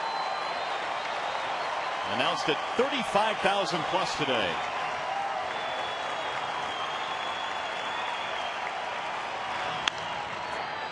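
Baseball stadium crowd of about 35,000 at a Tigers game cheers and applauds, a swelling roar with bursts of clapping midway, while a broadcaster talks over it.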